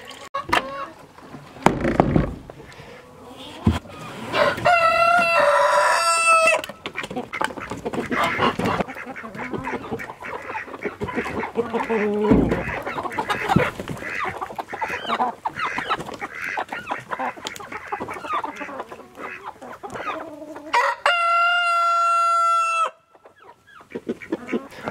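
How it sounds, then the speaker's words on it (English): Chickens cluck and squawk throughout, with two loud, drawn-out rooster crows standing out above the clucking, close by. "Mr. Biggs is nice and noisy as usual."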